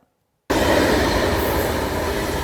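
A train rushes past as a sound effect, bursting in loud after half a second of silence and holding a dense, steady rumble with rattling wheel noise to the end.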